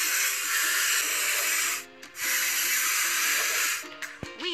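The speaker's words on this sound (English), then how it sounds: "Let's paint over the discolorations." Spray painting over rust on a machine in a kids' building game, a loud continuous hiss of spray in two long bursts with a brief pause between, followed by a short chime.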